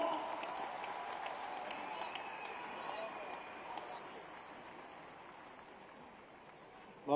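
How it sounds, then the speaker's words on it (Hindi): An audience at a Hindi poetry gathering (kavi sammelan) applauds as the poet Kumar Vishwas is welcomed, a steady wash of many hands clapping that slowly thins. "जोरदार ताली बजाएं डॉक्टर कुमार विश्वास"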